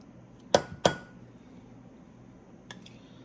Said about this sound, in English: I'm just going to take some out and put it in a separate bowl so it cools off